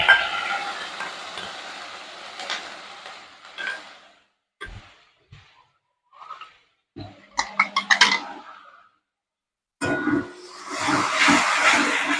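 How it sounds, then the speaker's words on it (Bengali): Beaten yogurt goes into a hot pan for dahi prawn curry, with soft hissing sizzle that comes and goes, scattered stirring scrapes and quiet pauses, then a fuller sizzle near the end. "দইটা আমি ফেটিয়ে এর মধ্যে ঢেলে দিলাম"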